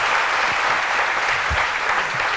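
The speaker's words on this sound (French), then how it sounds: "je vous demande d'applaudir encore très," Studio audience on a French television talk show giving sustained, dense applause for the guests, loud and steady throughout with no speech over it.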